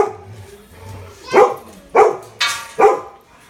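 A puppy lets out four sharp, close barks in an uneven rhythm at a home birthday celebration, with quiet background sound in between.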